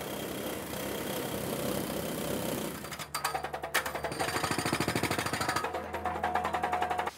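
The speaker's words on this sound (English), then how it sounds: "While the holes get drilled," Drills bore holes into a building being prepared for demolition: a roaring machine noise first, then a rapid, loud, pounding hammer-drill rhythm that continues steadily to the end.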